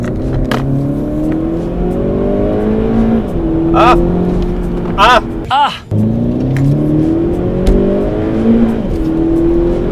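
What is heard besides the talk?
Volkswagen Polo GTI accelerating in sport mode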